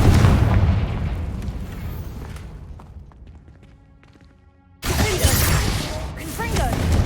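A Confringo blasting spell in Hogwarts Legacy goes off as a loud booming explosion whose rumble decays over a few seconds. A second heavy blast hits abruptly near the end, and a voice is heard between them.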